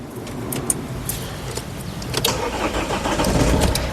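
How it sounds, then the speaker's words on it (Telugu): A 2015 Mahindra XUV500 W6 engine cranks and catches on a single turn of the starter, then settles into a steady idle, close and fairly loud with no talking. "సింగిల్ సెల్ఫ్లో కారు స్టార్ట్ అవుతుందా లేదా అన్న చూపిస్తున్నాను"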